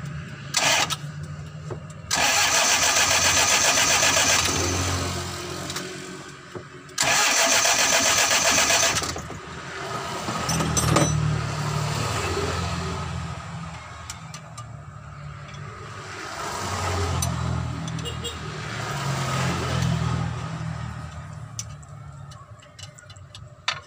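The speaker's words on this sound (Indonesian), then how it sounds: "Sekarang kita starter sambil digas teman-teman. Jadi syaratnya digas full." A Mitsubishi L300 diesel engine under overhaul is cranked by the starter in long grinding bursts with the throttle held full, then catches and runs roughly, swelling and fading as it revs, close and loud.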